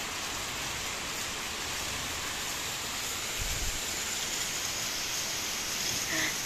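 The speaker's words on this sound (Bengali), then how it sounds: "দেখছো কত জোরে বৃষ্টি পড়ছে।" Heavy rain pouring outdoors, a dense steady hiss of falling water, fairly faint and even throughout with a brief low thump partway.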